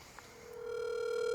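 A telephone rings with a steady electronic tone that swells louder over a second and a half, sounding alone without talk.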